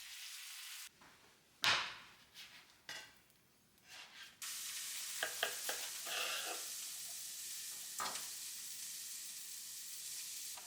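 A patty melt on rye bread toasting in a pan over medium heat, with a bright steady sizzle broken by a few soft clatters and shifts before settling into continuous frying.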